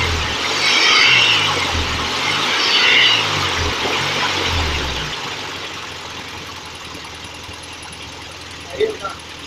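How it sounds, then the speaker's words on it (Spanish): A Volkswagen Beetle engine runs steadily up close with a loud rhythmic chug that swells and fades slightly, then settles into a quieter idle near the end. "el motor ya está en funcionamiento perfecto."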